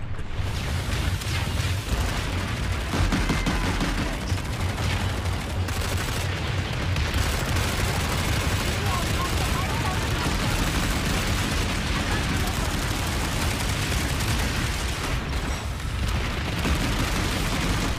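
Dense, continuous automatic weapon fire from PlanetSide 2 on a foggy night on Amerish, sustained bursts of shots and explosive impacts filling the whole stretch with a loud, busy battle din and no pauses.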